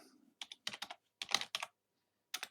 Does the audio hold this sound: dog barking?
no